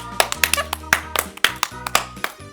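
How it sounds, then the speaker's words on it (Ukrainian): Children and an audience at a kids' science party with an animator clap in quick, uneven bursts, close and crisp, with voices mixed in around the claps. "Підтримайте мене оплесками."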